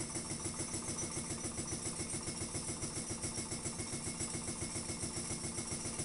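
An improved Ringbom Stirling engine runs at idle, giving off a steady, rhythmic mechanical chugging with fast, even pulses and a constant hum, close and alone.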